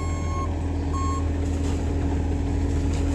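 A concrete mixer truck rumbles loudly at close range while its reversing alarm beeps twice in steady intervals, then the diesel drone continues alone.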